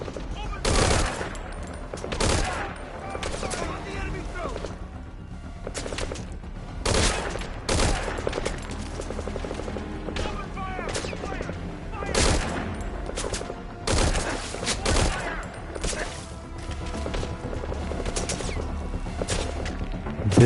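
Gunfire in the Metal Gear Solid 5 video game during a battlefield mission, with repeated sharp shots and short bursts scattered throughout, over a continuous game soundtrack and ambience.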